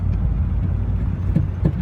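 A short-wheelbase car accelerating toward about 40 mph on a residential street, its engine a steady low rumble with road noise, close and continuous, with no talking.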